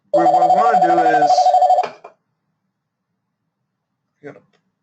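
An incoming call rings on a telephone: one loud warbling ring burst lasting nearly two seconds, then silence broken by a brief faint sound near the end.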